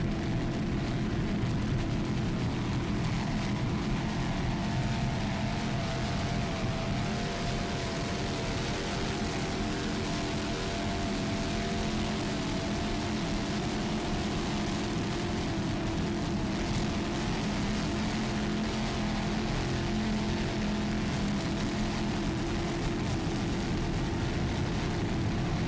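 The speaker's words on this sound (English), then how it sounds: "There's the PokerRun.com pace boat by High Noon, as well as the helicopter" A helicopter and a pace boat at an offshore powerboat race make a steady, loud drone of engines and rotor wash that holds unbroken throughout, with no voices.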